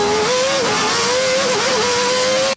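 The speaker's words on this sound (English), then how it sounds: "I have this sound in my head of the car roaring and going through Monaco streets" Ayrton Senna's McLaren MP4 Formula 1 car engine roars loud and close, a steady high-pitched wail with slight dips in pitch as the revs shift, cutting off abruptly at the end.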